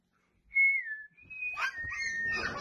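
A person whistles a short wavering tone, then a longer steady note, close by, with scuffling noises and a faint sound joining near the end.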